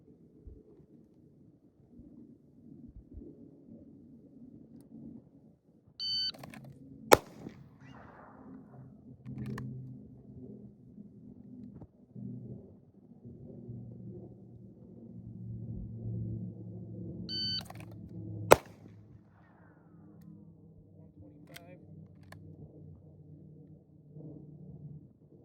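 Two sharp pistol gunshots at an outdoor shooting practice range, each following a short electronic beep, about eleven seconds apart, with faint wind rumble in between.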